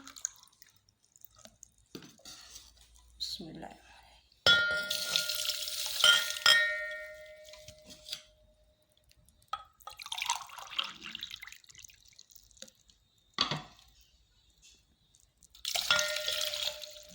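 Water poured from two large cups into a pot for Kashmiri tea, heard as bursts of splashing and dripping that start and stop several times, close by with no talk over it.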